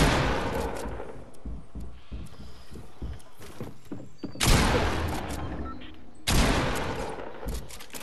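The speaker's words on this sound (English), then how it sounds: "He's shooting at nothing." Gunfire in Fortnite, Chapter 2 Season 2: scattered shots and clatter give way to two loud, sustained bursts of automatic fire, the second coming a couple of seconds after the first.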